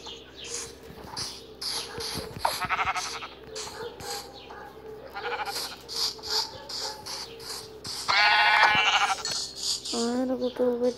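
Minecraft sheep bleat in a short run of calls amid game sound effects and shuffling, fairly clear in the mix.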